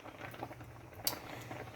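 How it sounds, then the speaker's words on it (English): A thick homemade spaghetti sauce with meatballs simmering in a pot, giving soft, irregular bubbling pops and gentle patter, quiet and close, with one slightly sharper pop midway. "this will simmer until the meatballs are done"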